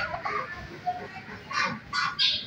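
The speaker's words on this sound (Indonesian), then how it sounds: "Ini ayam kalkun." Turkey calling at a small zoo: a few short, raspy gobbling bursts, fairly close, standing out over soft outdoor background noise.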